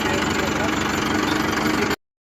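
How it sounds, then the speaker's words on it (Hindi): A Mahindra Arjun Novo 605 DI tractor engine runs close by with a steady, loud diesel idle and rhythmic knock while reverse gear is engaged without the clutch, then the sound cuts off abruptly. "देखिए महिंद्रा अर्जुन नोवो 605 DI आई है, जिसे कि आप बिना क्लच से भी यहाँ पर आपका रिवर्स गियर लग जाता है।"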